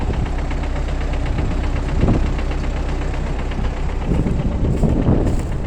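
A tractor engine runs steadily at close range in a wet field after disking, a continuous low rumble with a rhythmic knock, swelling slightly louder a couple of times.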